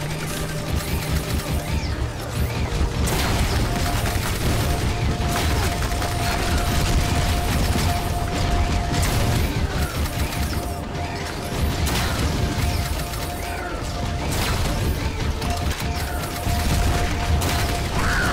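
Enemy gunfire in the shooter Ion Fury: dense, continuous volleys of shots with crashing mechanical clatter, loud and sustained throughout amid game music, with no talking.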